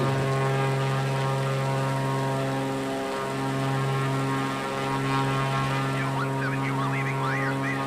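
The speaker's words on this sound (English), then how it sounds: "Oh yeah, she's a stunt plane." A stunt plane's propeller engine drones steadily and loudly, with a slight dip in pitch midway, and a whistly warble rises in the final seconds.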